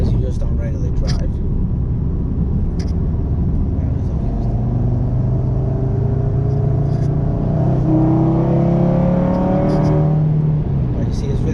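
An Audi RS3 engine revs up repeatedly on a dyno with rising, roaring pitch over a steady low rumble, loud and close.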